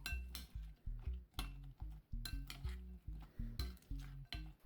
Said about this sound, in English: Add the tofu cubes into the tahini dressing and mix it up thoroughly.